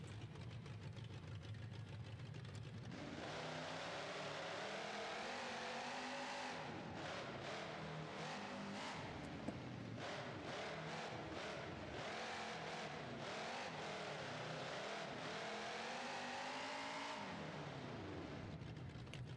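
A diesel monster truck engine in BeamNG.drive runs at a low idle, a loud, continuous drone that swells and eases a little through the middle, with no talking.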